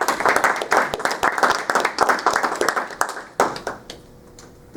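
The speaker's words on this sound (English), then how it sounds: "Please give a big round of applause for Dr. Om Dingra." A conference audience applauds a speaker with dense, steady clapping that carries on for several seconds, then thins out and fades near the end.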